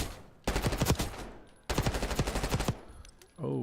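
C9 submachine gun in Call of Duty firing two long, loud, close automatic bursts of rapid evenly spaced shots, separated by a short pause, with a voice starting at the very end.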